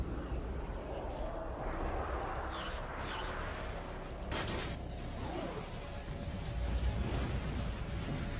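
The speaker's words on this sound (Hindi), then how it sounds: "जिस F-16 लड़ाकू विमान को अपने आसमान में उड़ते देख" An F-16 fighter jet flies overhead, its engine a distant, continuous roar that swells and fades slightly, with faint background noise and no voices.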